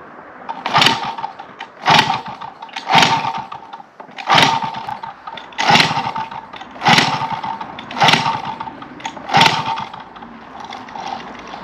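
MBK 51 Magnum Racing moped, a 1990s two-stroke, being kicked over repeatedly: eight rhythmic rasping pulls about every 1.2 seconds, loud and close, with the small engine sputtering briefly on each attempt.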